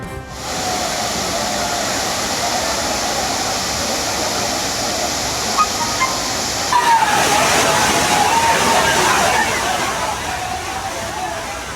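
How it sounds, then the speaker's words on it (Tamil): The Courtallam waterfalls roar continuously while crowds of people bathe beneath them, a loud, broad wash of falling water that shifts and thickens partway through. "குற்றாலம் அருவிகளில் குளித்து மகிழ குவிந்த மக்கள் கூட்டம்."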